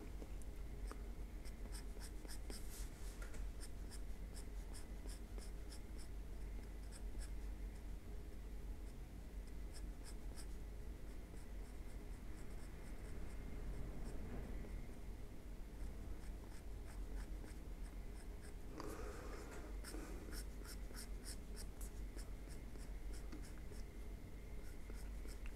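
A pencil sketches a person's face on paper with quick, repeated scratchy strokes in bursts, close and fairly quiet, with no talking.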